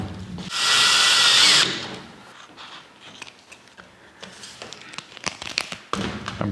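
A power drill drives screws into metal ductwork in a Victorian house, a loud whirring burst of about a second, then faint scraping, tapping and handling noises close by.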